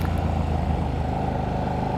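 Motorcycle exhaust drones steadily while riding, a continuous mid-level engine note with wind rush, no talking.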